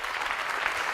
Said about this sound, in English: Ladies and gentlemen, can we have a louder round of applause?